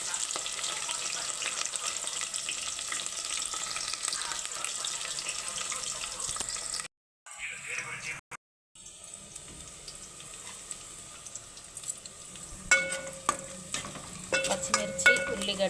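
Onions and green chillies frying in a pan give a continuous sizzle with intermittent stirring scrapes, broken by two brief silent gaps, with water running and utensil clinks near the end.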